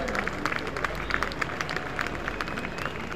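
A school Founder's Day audience applauds to welcome a music duo, a steady wash of clapping from a crowd that carries on evenly throughout, with a faint voice in the background.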